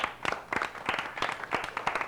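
Brief applause for quiz teams at a quiz show, a small group clapping in an uneven rhythm of separate claps, fairly close and moderately loud.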